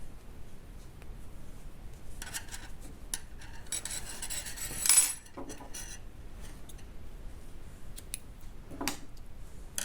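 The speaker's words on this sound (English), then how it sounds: "cut the thread and pull it out." Scissors snip knitting thread after binding off, giving a few faint, crisp cutting and rubbing sounds scattered over a quiet background, with one louder burst in the middle.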